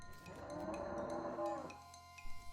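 Cows mooing in West of Loathing, a drawn-out bovine moo up close, with tinkling chimes and light effects around it before the call fades.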